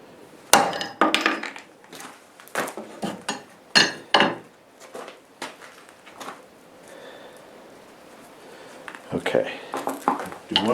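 A blade chopping into a cheap steel bolt: a run of sharp, metallic strikes in irregular bursts, loud and close, with a quieter stretch in the middle and talking among the blows.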